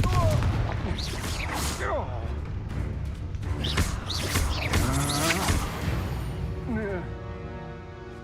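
A Confringo fiery blast spell in Hogwarts Legacy, heard as explosive bursts and crackling impacts amid a busy duel, with a voice shouting through the clamor.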